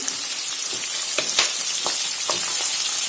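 Thinly sliced long strips of a large onion fry in a pan with a steady, loud, close sizzle, broken by occasional soft crackles and light stirring clicks.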